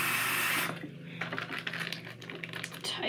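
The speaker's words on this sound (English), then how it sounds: "if you fill a bag with water" Water from a tap filling a plastic bag: a brief bright rushing hiss at first, then lighter crinkly plastic rustles and small drips.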